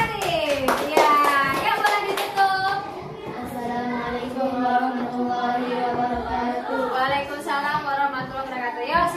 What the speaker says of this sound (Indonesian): Berikan tepuk tangan dulu kelompok kreatif.